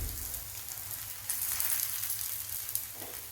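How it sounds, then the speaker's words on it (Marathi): A fasting-recipe batter roasting in ghee in a pan gives off a steady, close sizzle and fry that hisses continuously and swells slightly partway through, with no talking. "खरपूस असे 2 साईडनं भाजून घ्यायचे"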